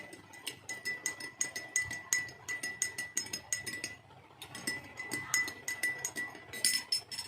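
A spoon stirs powdered sugar into water in a glass, giving rapid, rhythmic light clinks against the glass, faint and close, with a short pause before the stirring resumes.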